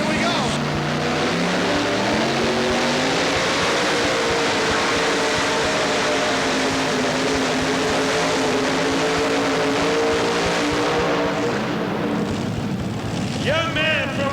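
Engines roar in a steady, loud drone throughout a 1990 Super Pull World Champions tractor pull at the Cow Palace arena, with a two-engine pulling tractor's pitch slowly climbing and holding as it strains down the track.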